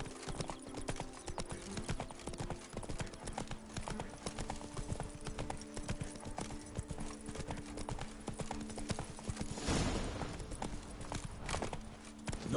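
Hooves of a horse in The Witcher 3 clip-clop in a fast, steady rhythm throughout, close and clear, with a brief neigh near the end.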